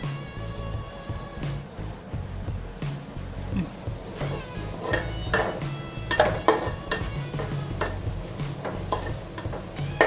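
Noodle ingredients stir-fried in a pan for homemade dry noodles, with scraping and clattering of a utensil against the pan and a faint sizzle, plus a few sharper metallic clinks, continuous and close.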